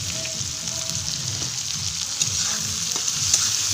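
Onions fry with salt in a pan, giving a steady, close, hissing sizzle with faint crackles and a low rumble underneath, and no voices.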